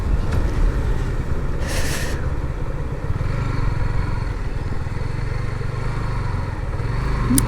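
Motorcycle ridden along a winding road toward a newly opened railway line, its steady low engine rumble mixed with constant heavy wind buffeting the microphone, with no talking.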